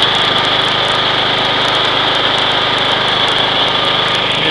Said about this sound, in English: I know this lawnmower is a little bit loud.